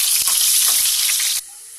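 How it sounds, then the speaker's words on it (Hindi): Onions frying in a kadhai, a loud, steady sizzle with crackling bursts that cuts off sharply near the end, leaving a quieter hiss. "इसे निकाल के हम इसमें फिर प्याज फ्राई करेंगे"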